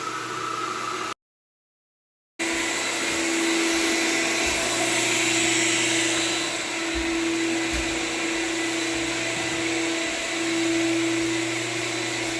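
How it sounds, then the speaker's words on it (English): A steady, loud whirring hiss of a sander on the edges of an old wood floor runs continuously with a brief cut of silence near the start, no talking. "Hand sanding all the edges first."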